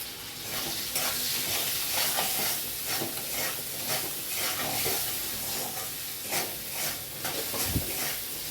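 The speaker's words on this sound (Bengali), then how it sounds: "আলুটা একটু ভেজে নিয়ে দিয়ে দিচ্ছি লবণ হলুদ।" Potatoes frying in a pan with salt and turmeric, a dense continuous sizzle and hiss, close and fairly loud, broken by stirring scrapes and occasional louder bursts.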